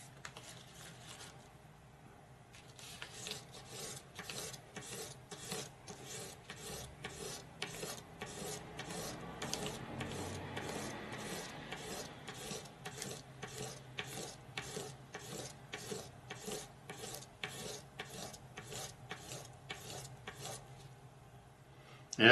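Steady rhythmic rasping strokes of a Cold Steel Frenzy III knife part rubbed on a 1000 grit abrasive, even back-and-forth scrubbing that repeats close up with no talk.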